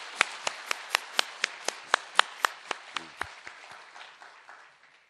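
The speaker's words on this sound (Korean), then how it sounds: "박수도 한번 힘차게 보내주시기 바랍니다." A church congregation applauds the choir with sharp, evenly spaced claps in unison, about a dozen crisp beats at a steady pace, then the clapping grows quieter and loosens before trailing off.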